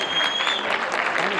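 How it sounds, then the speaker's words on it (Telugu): An audience claps for a dance team at a Ugadi 2025 celebration, a dense, steady round of applause in a hall with a voice talking over it. "ఒక్కసారి వీళ్ళ కోసం గట్టిగా చప్పట్లు"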